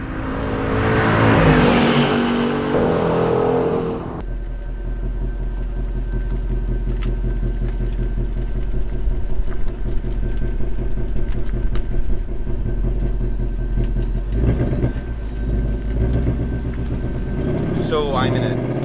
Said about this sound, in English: 2019 Mustang GT. God, it sounds very, very American. It's loud, it's angry